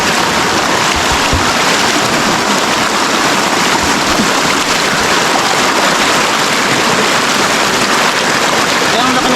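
A small river flowing steadily, its broad rushing water wash continuous and fairly loud throughout, with no voices over it.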